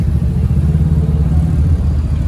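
A Ferrari passes at a car gathering on Place Vauban, its engine producing a low, throaty rumble that stays close and steady for a couple of seconds.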